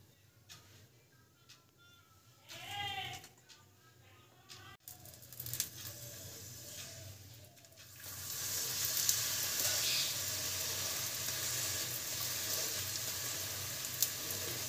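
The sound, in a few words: radish paratha frying in oil on a tawa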